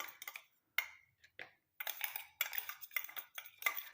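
Almonds are dry-roasted in a pan and stirred with a spoon, making light rattling and scraping clatters in uneven bursts close to the pan, with brief quiet gaps.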